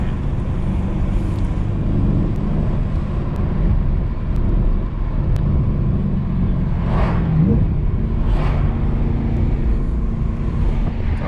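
BMW E93 M3 opening up on the highway, a continuous loud engine and road roar heard from inside the car, with a couple of brief swells and faint bits of nearby voice.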